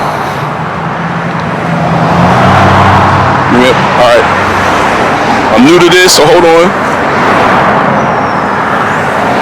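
Steady roar of road traffic fills the background while someone speaks briefly in the middle, close and clear.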